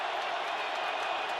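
Football stadium crowd at a Giants–Cowboys game murmuring in steady disapproval, a broad, continuous roar of many voices with scattered faint clapping, evenly loud throughout.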